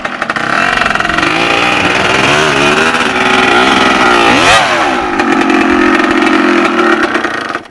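An enduro motorcycle engine runs loud and close, revving up and down steadily for several seconds on an off-road ride in Konavle, dominating with no talk.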